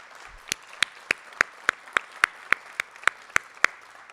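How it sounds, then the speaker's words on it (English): Audience applause for inductees at a National Technical Honor Society induction ceremony: a steady, evenly spaced run of crisp claps lasting about four seconds, moderately loud and with no talking over it. "one last round of applause for our inductees"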